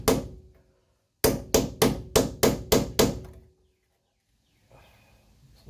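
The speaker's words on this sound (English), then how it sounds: "I can chisel through the rest of the weld" Hammer blows drive a chisel through a weld in a car body panel, one ringing metallic strike followed after a pause by six sharp, evenly spaced hits, then quiet shuffling.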